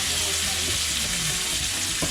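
Flat iron steak sears in a hot pan with melting butter, fresh rosemary and garlic, giving off a steady, loud, close sizzle that runs unbroken with a brief crackle near the end.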